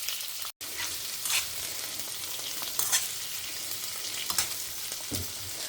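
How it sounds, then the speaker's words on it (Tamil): Chopped onions sauté in a pan with a steady close sizzle, punctuated every second or so by soft stirring scrapes, with a brief dropout near the start. "இப்போ வெங்காயம் வந்து நல்லா வதங்கிடும் சின்ன சைஸாக"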